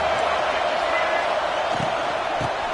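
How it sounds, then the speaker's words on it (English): A football stadium crowd roars in a steady, dense wash of cheering that fills the whole stretch, with a few muffled thumps underneath and faint announcer talk mixed in. "Listen to the crowd energy here in the early going."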